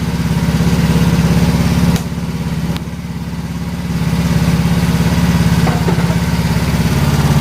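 A Yamaha Mio scooter engine fitted with an NMAX regulator rectifier for fullwave charging runs steadily at idle up close, a loud continuous putter with a brief dip in level midway.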